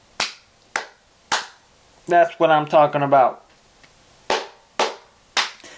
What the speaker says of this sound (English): I think this one calls for an NPC clap